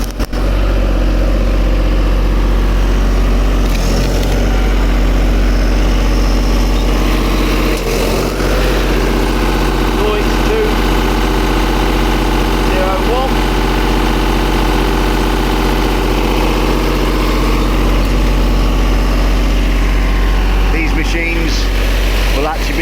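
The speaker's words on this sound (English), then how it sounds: "Miller Big Blue 500X diesel welders. These have got the Deutsch engines in." A Miller Big Blue 500X diesel welder generator with a Deutz engine runs loud and close, giving a steady, heavy idling drone with a deep low rumble and no change in speed.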